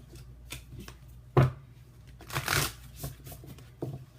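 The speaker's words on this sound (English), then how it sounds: "let me go ahead and pull Whispers of Love angel cards" Angel oracle cards being shuffled by hand, a run of soft papery riffles and flicks with one sharper slap partway through, close and fairly quiet with no talking.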